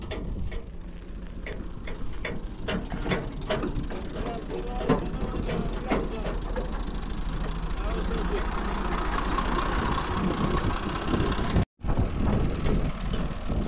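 A truck's diesel engine runs steadily throughout, a continuous low rumble with mechanical clatter, while people talk over it; the sound cuts out briefly near the end before resuming.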